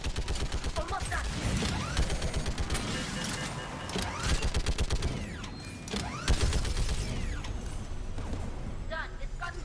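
Rapid bursts of gunfire from a gun in the sci-fi game Mass Effect, coming in repeated loud volleys mixed with mechanical clanks and creaks, with voices heard between the shots.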